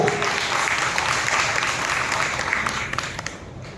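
A church congregation claps loudly together in a dense, continuous burst of applause that carries on for several seconds and then eases off slightly near the end.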